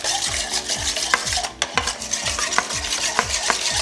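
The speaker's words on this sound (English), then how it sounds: "This is a Danish dough whisk. And so you stir it all together." Sourdough bread dough being stirred with a Danish dough whisk in a bowl, a rhythmic series of close wet swishes and scrapes repeating about twice per second, with light clinks against the bowl and no talking.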